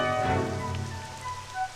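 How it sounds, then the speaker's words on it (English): Rain falls on a mountaintop in Dragon Quest XI S Definitive Edition as a soft, steady patter that briefly swells. Tonal game music sounds over it. "It's raining though, can't really see anything."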